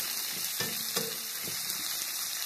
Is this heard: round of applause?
no